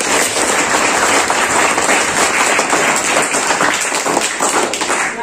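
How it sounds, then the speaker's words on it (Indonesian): Loud, sustained applause from a school group of students and accompanying teachers at a kombucha tea-making activity, dense clapping filling the whole stretch without a break. "Tepuk tangan untuk kita semuanya."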